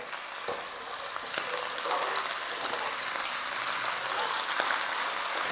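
Chicken liver fries in hot oil for a chicken afritada, a steady broadband sizzle that holds close and even throughout, with a few faint ticks and pops rising from the pan.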